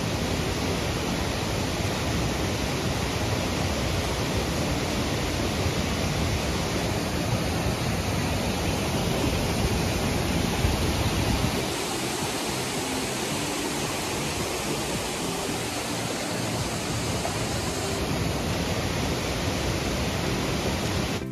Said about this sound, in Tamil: இதுதாங்க மேலே இருக்கிற அந்த ஃபால்ஸ்.